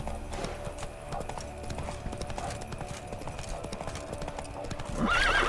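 Roach, a horse in the Witcher 3 video game, gallops with rapid rhythmic hoofbeats clip-clopping steadily, and a louder whinny bursts out near the end.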